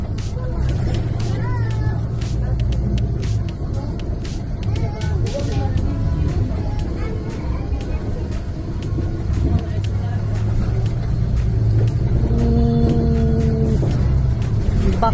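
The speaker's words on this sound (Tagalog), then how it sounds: "Medyo bumpy yung bus." Steady rumbling engine and road noise inside a moving bus travelling to Helsinki Station, with low drone, occasional bumps and rattles, and faint passenger chatter in the background throughout.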